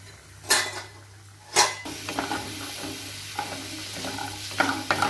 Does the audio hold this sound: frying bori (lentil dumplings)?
yes